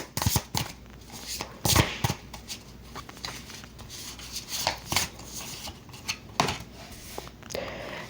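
Tarot cards are shuffled and handled close by, giving soft riffling rubs and sharp slaps in uneven bursts with quiet pauses between.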